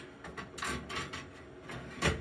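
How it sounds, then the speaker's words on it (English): A plastic drip tray is slid back into a machine, making a short run of close scraping, sliding and clicking sounds that ends in a firmer knock as it seats. "reinsert the drip tray back in, and you're ready to go."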